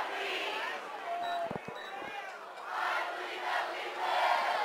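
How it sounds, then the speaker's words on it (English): Crowd cheering and yelling in the stands at a high school homecoming football game between Sequim and North Kitsap, a moderately distant roar that swells and fades, with a commentator's voice over it. "Crowd fired up here, homecoming night, a lot of alumni."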